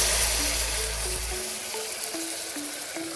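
Spices hit hot oil for a tadka in a mutton curry, giving a steady hiss of frying that settles into a quieter, even sizzle, ending in a soft clink.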